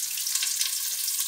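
Chopped onion sizzles in about five centilitres of hot oil, a steady, bright frying hiss that fills the clip on its own and flares briefly at the very end.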